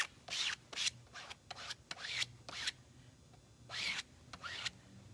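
A tool is scraped across gold-finished chinoiserie painted furniture at a 45-degree angle, making quiet, close, rhythmic rasping strokes separated by short pauses.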